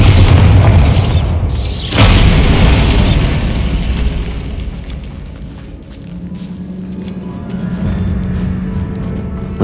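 A Bombarda spell blast in the video game Hogwarts Legacy, a loud booming explosion near the start followed by a second burst about two seconds in, then rumbling debris and ambient tomb tones fading under a low hum.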